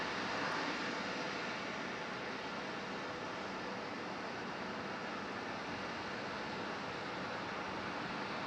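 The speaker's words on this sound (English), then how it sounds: "Let's go down here to this American E175 just arrived." Steady broadband roar of an American Airlines Embraer E175 jet arriving at Raleigh-Durham International Airport, a continuous engine rumble and hiss that holds at an even level throughout without any voices.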